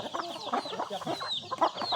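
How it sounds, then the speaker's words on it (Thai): Young chicks at a farm in cold weather cluck and peep steadily, with high chirps over soft, close, overlapping clucks and no voices. "ตัวนี้เป็นลูกไก่"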